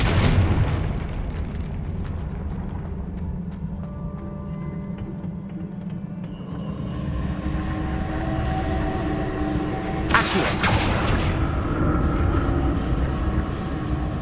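Confringo fire spell from Hogwarts Legacy gameplay, heard as a loud rumbling blast against a dense, continuous game soundscape with a sharp burst near the end.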